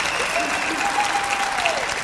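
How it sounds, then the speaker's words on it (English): Crowd applause at TalkFest 2008 in the Austin Convention Center for George Noory, dense continuous clapping throughout, with a faint tonal hum running underneath. "How about another big round of applause for Mr. George"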